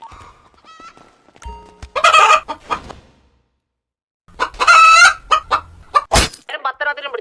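Chickens in the game GTA Online cluck and squawk in loud, rapid bursts, two main clusters separated by a short silence, followed by a sharp squawk and quieter chattering clucks.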